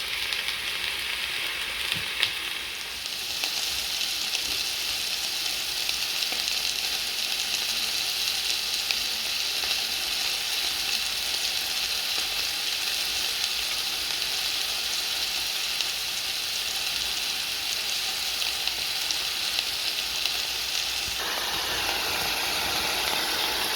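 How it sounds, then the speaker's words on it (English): Dryad's saddle mushrooms fry in a pan with a steady, close sizzling hiss that runs unbroken throughout, holding an even level and brightening slightly in tone near the end. "Just got to leave them to cook."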